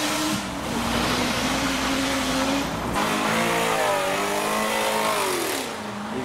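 A JDM car pulls away from a car show, its engine revving hard and climbing through the gears, loud and close before it shifts and fades slightly as it moves off.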